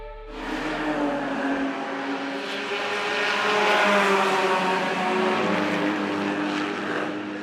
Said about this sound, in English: it's Frank Stippler in the number 25 Jaguar, up to win this St Mary's Trophy race